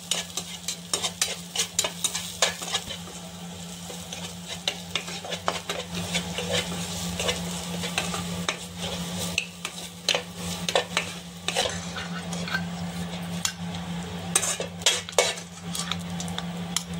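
Pistachios fry in ghee for traditional sheer kurma while a spoon stirs them continuously, a close bright sizzle layered with dense rapid scraping and clicking of utensil against pan, no voices.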